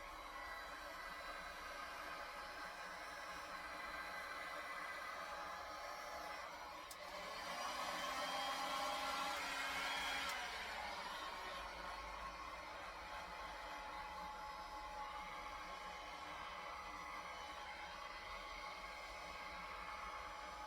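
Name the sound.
heat tool blowing hot air on resin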